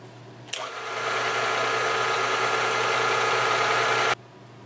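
An Atlas 10 inch lathe starts up and runs a cut with a steady, loud mechanical whir and hum that holds evenly for several seconds, then stops abruptly.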